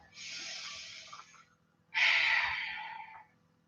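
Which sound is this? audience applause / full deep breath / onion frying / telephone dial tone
full deep breath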